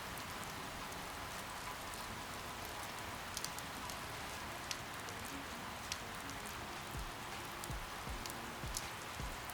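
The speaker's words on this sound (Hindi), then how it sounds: "बारिश शुरू हो चुकी है" Heavy rain falls steadily in a border village in Nagaland, a dense, continuous hiss of drops with occasional louder close splats, no voices.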